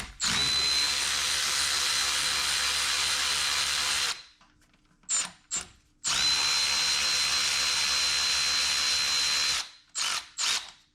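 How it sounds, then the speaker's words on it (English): Power drill or impact driver removing two 10mm bolts from the intake of a Subaru EJ-engine WRX/STI, running in two long loud whirring bursts with short trigger blips between them, close up, no talk. "Now I'm going to take out my 2 10mm bolts that are right here."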